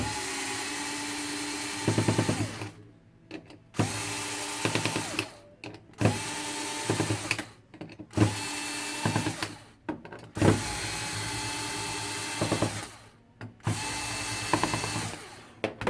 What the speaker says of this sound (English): Now I'm simply removing all the screws here.